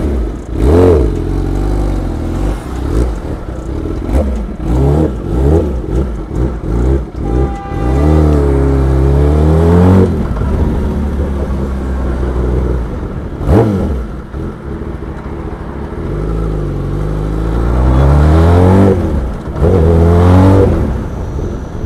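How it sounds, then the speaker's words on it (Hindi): A Kawasaki ZX10R sportbike's exhaust roars while riding, loud repeated revs rising and falling with sharp throttle blips and gear changes, close and dominant throughout. "एग्जॉस्ट चेक करो,"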